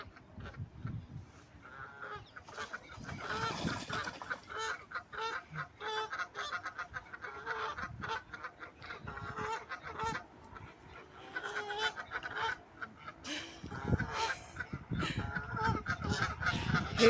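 Geese honk repeatedly and busily in Hainault Forest, a flock calling over one another in dense overlapping bursts at moderate distance for the whole stretch.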